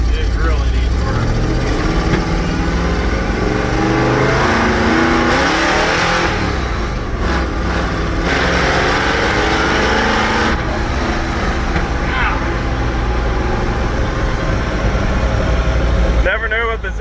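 A loud truck engine with a 4-speed transmission revs hard and continuously as the truck drives, rising and falling through gear changes, close and dominant throughout.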